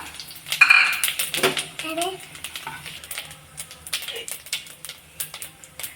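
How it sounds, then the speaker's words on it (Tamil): Whole spices such as fennel, cinnamon, cloves and cardamom are dropped into hot oil in a pan for chicken pepper gravy, giving scattered clinks and light sizzles while a person talks over the kitchen clatter. "எண்ணெய் காஞ்சிருச்சு, சோம்பு, பட்டை, கிராம்பு, ஏலக்காய் எல்லாம் போட்டுக்கலாம்."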